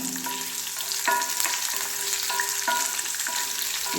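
Garlic and ginger frying in a pan, a constant crackling sizzle punctuated by several sharp metallic clinks and scrapes of a utensil against the pan, with no one speaking.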